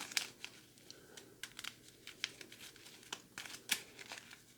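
Print-and-play event cards for a solitaire game are shuffled close up, with quiet papery riffles, crinkles and sharp ticks scattered irregularly over the span.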